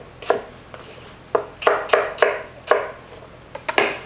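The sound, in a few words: knife chopping celery, carrots and onions into dice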